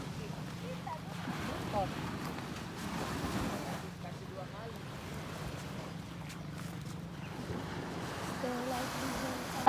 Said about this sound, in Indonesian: Ini Pantai AMMANI.